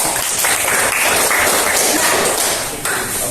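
Classroom applause from a group of students, a dense, steady wash of many hands clapping for about three seconds, loud and close, easing slightly near the end.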